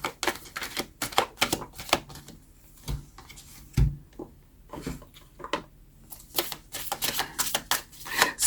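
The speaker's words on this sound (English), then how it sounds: "Let's grab a few cards and see what comes up" Tarot cards being handled and drawn from a pile, rapid crisp flicks and shuffling snaps in uneven bursts with a few soft thumps, close and fairly loud.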